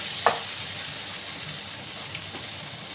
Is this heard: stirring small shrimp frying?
yes